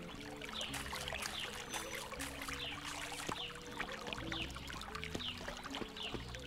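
Continuous flowing river in a medieval RPG game, a steady rushing, trickling water bed at moderate level with light splashes, no talking.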